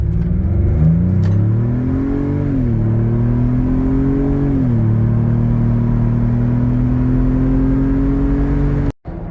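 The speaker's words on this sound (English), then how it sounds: "I'll give you an acceleration in sport" A 2025 Ford Bronco with the 2.3 EcoBoost and 33-inch tires accelerates hard in sport mode from low speed, engine revving up through two gear shifts into a steady loud drone, cut off abruptly at the end.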